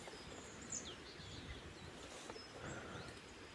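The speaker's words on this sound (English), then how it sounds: "I think it's time to just enjoy some sounds of the birds" Birds sing in a garden, with scattered high chirps and whistled calls drifting faintly over a steady outdoor hush, no voices present.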